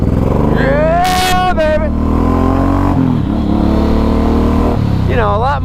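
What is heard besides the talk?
Suzuki M109R motorcycle revving while riding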